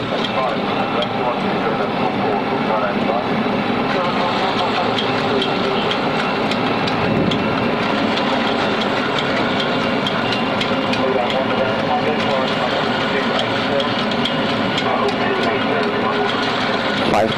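In the FSX flight simulator game, an aircraft on landing approach with flaps set gives a continuous, steady engine drone at constant loudness while people talk over it.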